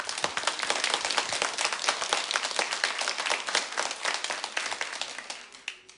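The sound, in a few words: applause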